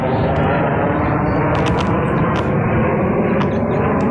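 A steady, loud engine roar of a low-flying helicopter passing overhead fills the whole clip, constant and close with no pauses.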